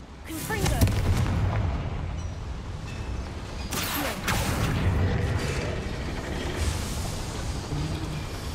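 A Confringo fire spell is cast in Hogwarts Legacy, bursting into a heavy blast with rumbling, crackling explosions and debris that roll on for several seconds amid game ambience.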